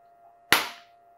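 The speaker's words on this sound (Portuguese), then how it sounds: "Esse ruído, nós ouvimos aí o efeito fotoacústico, né, do laser." A Nd:YAG Q-switched laser fires a single pulse onto paper, producing one sharp, loud snapping crack from the photoacoustic effect that decays quickly, heard over a faint steady electrical hum.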